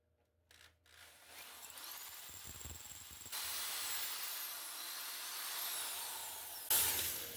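A drill bores through a mild steel exhaust pipe clamped to a frame, a steady hissing, grinding whine that starts after a few quiet knocks, grows louder partway through and ends with a sharp bright burst.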